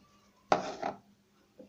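A single soft thud with a brief rattle as chopped onion and potato drop into a bowl for mixing lentil fritter batter, followed by a faint tap, close and quiet.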